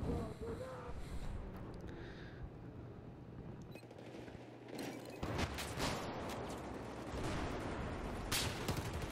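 M1014 shotgun fire in the Battlefield 4 video game on the Metro map: several sharp blasts cluster in the second half over busy game noise, with players talking now and then.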